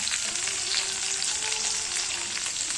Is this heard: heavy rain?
no